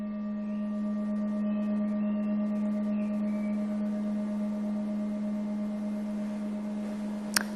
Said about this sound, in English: And then you have other sounds like this one here, we call it a heart bowl